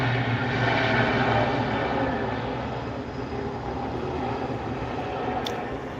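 A Delta Airbus A220-100 jet, three years old and arriving from Salt Lake City at SNA airport, gives a steady, loud, broadband engine roar that holds evenly throughout with no voices.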